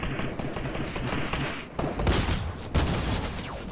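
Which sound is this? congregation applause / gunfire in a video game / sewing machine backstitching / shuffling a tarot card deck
gunfire in a video game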